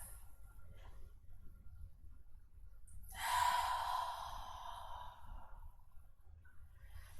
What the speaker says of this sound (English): Nice inhale, full exhale. One more nice big breath.